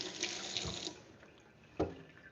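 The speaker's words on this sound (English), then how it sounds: "Rinse my hands off since I wanted to eat the potato out of it." Tap water runs into a kitchen sink as hands are rinsed, a steady soft splashing flow that eases off, with a brief clatter near the end.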